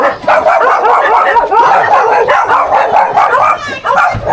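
A dog barks and yips repeatedly at close range, loud excited barks with whimpering, mixed with people talking.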